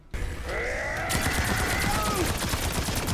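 Sentry turrets in Black Ops 6 Zombies fire in a rapid, continuous burst of gunfire, loud and close, with groaning zombie noises mixed in early on.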